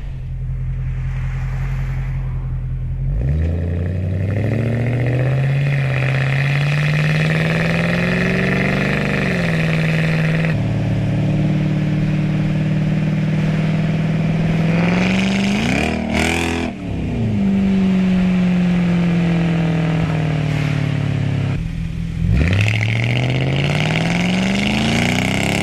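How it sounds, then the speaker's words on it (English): A Jaguar XK8 V8 sports car, miked from outside at the number plate, idles and then revs hard several times, its pitch sweeping up and down in long rising pulls, loud and close with no voices. "I'll just insert a little clip now of the soundtrack from the outside of the car with a microphone on the number plate."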